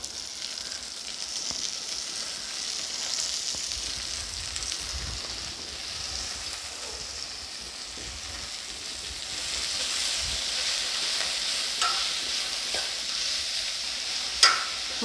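Spinach (palak) added to a pan for keerai sambar and stirred, a soft continuous sizzle with occasional faint scrapes and a sharper clatter near the end, close and fairly quiet.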